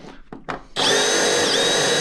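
A power drill bores into the bulkhead area of a 2025 Polaris 9R snowmobile: a few short bumps and taps, then the drill spins up and runs loud and steady, close by, with no voices.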